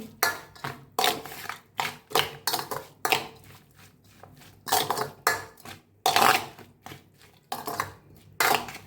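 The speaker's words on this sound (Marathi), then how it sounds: "आता एकदा याला मिक्स करून घेऊया सगळं चमच्याने मिक्स करूया" A spoon scraping and clinking against a bowl while mixing dhapate dough ingredients with salt and white sesame, in a steady run of repeated close, fairly loud strokes.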